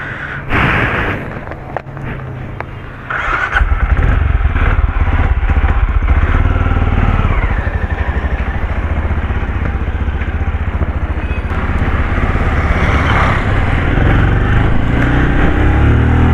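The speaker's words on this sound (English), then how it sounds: "Now today I'm riding the Benelli Imperiale 400" A 2021 Benelli Imperiale 400 motorcycle with a BS6 engine starts up and settles into a loud, steady thumping run, heard close to the bike with no talk over it.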